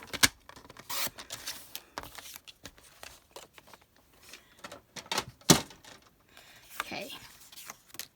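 Colored cardstock cut down for pocket scrapbook layouts, close scraping, rubbing and slicing sounds in irregular bursts, with a few sharp snips and paper handling between them, fairly quiet overall.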